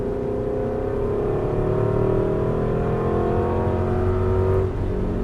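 An Aston Martin V8 Vantage under throttle on a race track holds a loud, steady engine drone from inside the cabin, its pitch climbing smoothly before a brief dip near the end.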